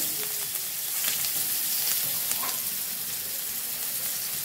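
Steady frying sizzle of chopped onions and nigella seeds in hot oil in a wok, a continuous crackling hiss with faint stirring clicks, fairly close and without any talking.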